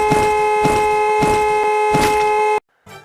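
A car horn in the video game Free Fire blares in one long, loud, sustained note, then cuts off abruptly into brief silence.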